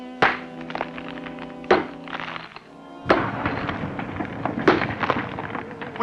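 A metal pick strikes hollow rock in several heavy thuds, each followed by a rumbling, crumbling rush of rubble that echoes as if in a cave. Loud and close, with no clear talk.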